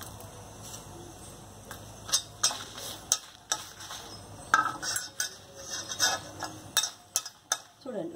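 Dried red chillies and curry leaves frying in oil for sesame-seed eggplant, a steady low sizzle punctuated by sharp spatula scrapes and clinks against the pan, with a voice talking faintly at times.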